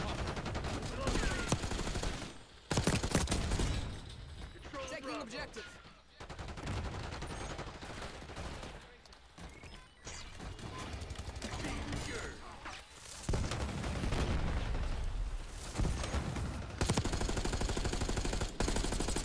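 Heavy, nearly continuous gunfire in Black Ops 6, automatic bursts with brief gaps and mechanical clatter, with game voice lines heard beneath it.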